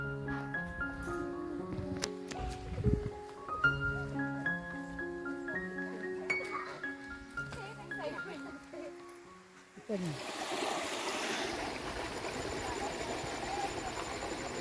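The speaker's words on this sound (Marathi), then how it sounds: "ही नदी बघा आपली वरून वाहत येते" Tonal music plays for the first part, then a steady broadband rush of a monsoon-swollen river in Konkan, Maharashtra takes over, fairly close and continuous.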